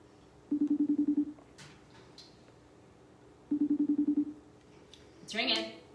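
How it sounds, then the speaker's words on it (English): A video call rings out in two bursts of rapid electronic trill pulses, moderately loud and evenly spaced, each about a second long, followed by a brief muffled rustle and a voice picking up. "It's ringing."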